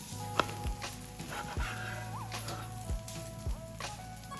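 Mince-filled tortilla sizzling and crisping on a hot griddle, a steady close hiss broken by a few sharp clicks and scrapes, with faint tonal background noise and no voices.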